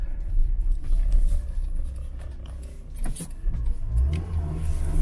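A Nissan Micra K11 driving along a small rally-style country road, with a steady low engine rumble and road noise heard from inside the car and small swells in engine pitch.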